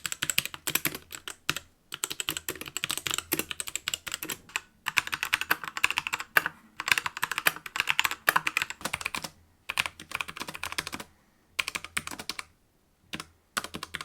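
Steady clattering of mechanical keyboard switches, bursts of rapid typing separated by brief pauses; crisp, close clicks with no voices.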